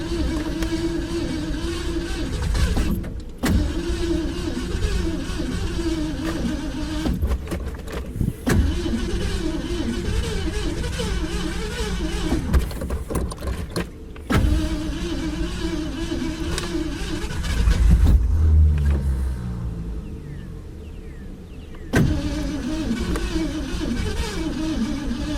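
The engine of a 1936 Ford 5-window coupe runs loud and close, rising and falling as it is revved repeatedly, with abrupt drops and pauses between runs as it stalls and restarts.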